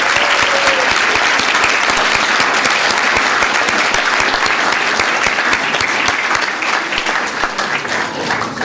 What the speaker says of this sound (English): If we could have a round of applause for these outstanding young folks.